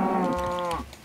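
A single drawn-out moo from an apple cow in the Minecraft Orespawn mod, loud and close, falling in pitch before trailing off.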